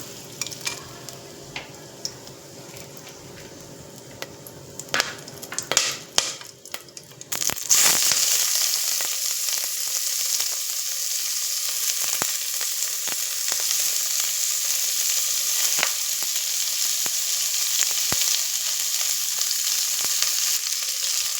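Whole spices dropped into a little hot oil for veg biryani, giving a sudden loud sizzle that keeps up a steady crackling hiss, with a few earlier stirring clinks before it starts.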